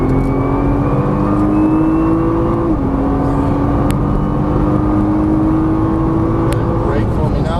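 Nissan GT-R accelerating on a race track, a loud sustained engine drone rising in pitch with a brief gear shift partway through, heard from inside the car under a driving instructor's coaching.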